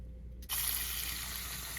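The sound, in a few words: covering potatoes with water from the tap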